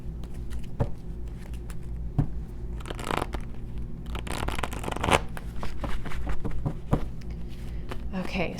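Tarot cards being shuffled by hand in repeated riffling, crackling bursts at close range, with a voice speaking over parts of the handling.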